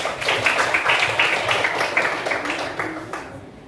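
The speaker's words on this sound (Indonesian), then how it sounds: "tepuk tangan buat kelompok auditori" Clapping from a classroom group of teacher-training students in Indonesia, a modest, fairly close patter of hands with uneven rhythm that thins out and stops near the end.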